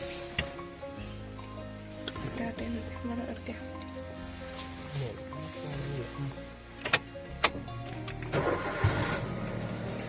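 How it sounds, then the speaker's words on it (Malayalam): An automatic car engine cranks and settles into a low, steady idle, with clicks and mechanical clunks from inside the car building toward the end, heard close up. "അപ്പൊ അതാ നമ്മൾ വണ്ടി സ്റ്റാർട്ട് ചെയ്തിട്ടുണ്ട്."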